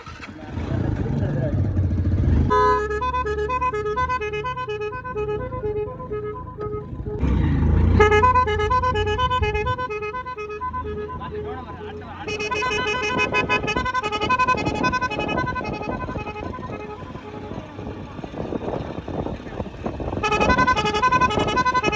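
Motorbike horns honk in repeated bursts at an anniversary celebration, loud tooting mixed with engine noise and background voices.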